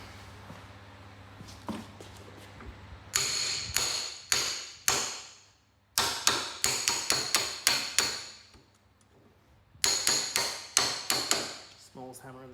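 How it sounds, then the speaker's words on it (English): The smallest hammer in a toolbox taps on a motor's hub and drum in quick clusters of sharp, ringing metallic strikes. Short pauses separate the bursts, and the sound is close and fairly loud with no talking. "Smallest hammer in the toolbox."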